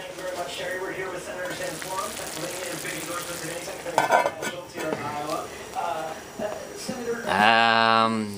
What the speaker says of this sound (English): I'll just go and stir up the mushrooms a little bit